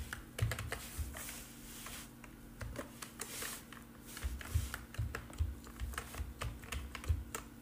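Steady typing on a computer keyboard, rapid clattering keystrokes in irregular bursts with brief pauses, fairly close and alone with no talking.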